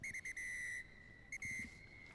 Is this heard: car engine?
no